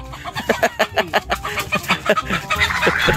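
Chickens cluck repeatedly at close range, a busy run of short rhythmic calls with farmyard noise behind them.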